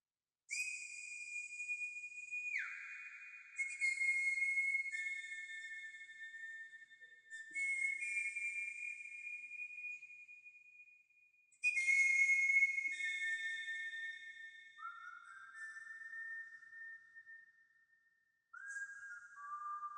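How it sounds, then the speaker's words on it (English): A solo whistled melody with long held notes and sliding pitch changes, clear and close; any percussion underneath is barely present. "I added a whistling solo on it"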